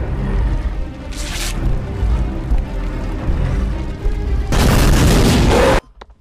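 A Ninja Turtles toy fires a heavy artillery sound effect: a loud, harsh electronic blast bursts near the end after a rumbling noisy buildup, then cuts off sharply.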